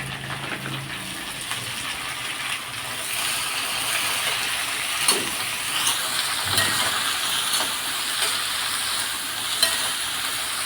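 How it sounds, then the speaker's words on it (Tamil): Fresh coriander, mint and green chillies sautéing in a pan for tomato rice, a steady sizzle and frying hiss with occasional stirring scrapes, close and continuous with no talking. "போட்டுட்டு அதையும் நம்ம நல்லா வதக்கிக்கலாம்"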